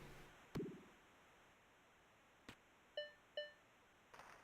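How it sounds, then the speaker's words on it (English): Short electronic beeps in the NHL 09 hockey video game marking the final minute of the first period, two quick tonal pings in succession, clear over quiet background hiss, with a couple of soft thuds around them. "Beep, beep. That means it's the final minute of play in the first period."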